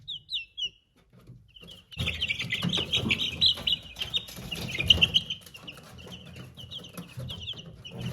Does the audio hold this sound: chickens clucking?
yes